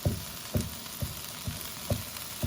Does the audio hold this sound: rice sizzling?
yes